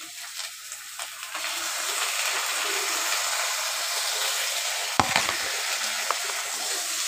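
Ginger garlic paste fries in a pan with a dense, steady hiss and sizzle, close and even, broken by one sharp knock of a spoon against the pan.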